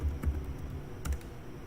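A few light clicks of keys being pressed on a computer keyboard while a command is typed, quiet and close, two small clusters of taps separated by a short pause.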